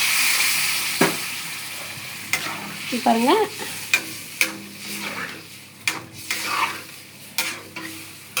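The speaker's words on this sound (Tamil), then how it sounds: "இந்த மாதிரி கொஞ்சம் நல்லா எண்ணெயிலே கொஞ்சம் ஒரு 2 நிமிஷம் வதக்கிட்டு அப்புறமா தண்ணி கொஞ்சம் ஊற்றிக்கலாம்" Spices sauté in hot oil in a pan for a South Indian dry ginger kara kuzhambu, with a soft sizzle under repeated stirring scrapes and clinks of a spoon. A voice speaks briefly.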